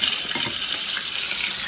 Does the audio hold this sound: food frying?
yes